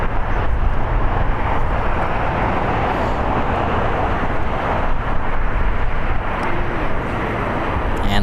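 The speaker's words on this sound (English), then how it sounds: "Japan Airlines in its One World livery. Coming in from Tokyo, it's a Boeing 777ER" A Boeing 777ER in Japan Airlines' One World livery arrives at LAX from Tokyo, giving a loud, continuous, broadband engine rumble throughout.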